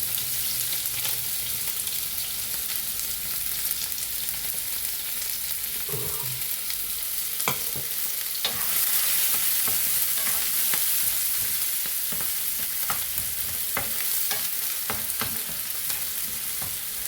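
Onions and green chillies sizzle in hot sunflower oil, a close, continuous frying hiss with scattered stirring clicks and scrapes of a spoon against the pan throughout; no one speaks.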